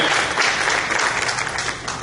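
A church congregation applauding together, a dense, even wash of clapping filling the room for a couple of seconds.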